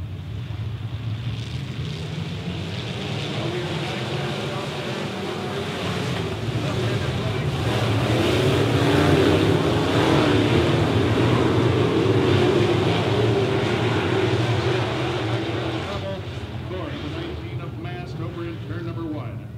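Sportmod race cars circle a dirt raceway together, a dense continuous engine roar that swells and fades as the pack passes, with a race announcer's voice over it.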